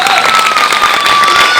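Live theater audience applauding and cheering during a Neapolitan comedy stage show, a dense steady wash of clapping and crowd noise, loud and continuous throughout.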